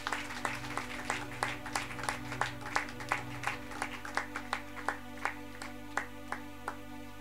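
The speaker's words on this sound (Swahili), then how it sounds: "Let us clap to Jesus." At a Sunday church service in Kisumu, a congregation claps for Jesus in a steady, even rhythm, faint and somewhat distant over a continuous low hum.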